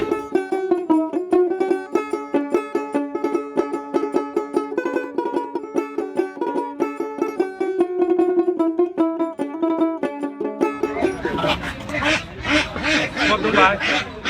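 A steady tonal melody runs for a while, then a loud, crowded burst of ducks quacking close by takes over at a traditional floating village market on the Ichamati River in Bogura.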